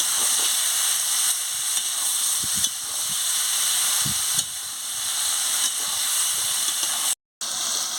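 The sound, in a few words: papaya, soybean and potato frying in spices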